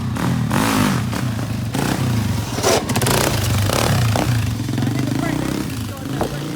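A new ATV's engine revs hard as the clutch is popped on grass, a close loud growl with clattering bursts, heard under people talking.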